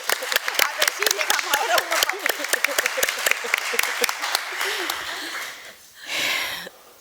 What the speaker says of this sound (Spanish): les pido un aplauso para ellas